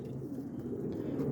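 Pigeons, a pair believed to be two cocks from a bought loft pair, coo softly and continuously in a low murmur for the whole short stretch, with no talk over them.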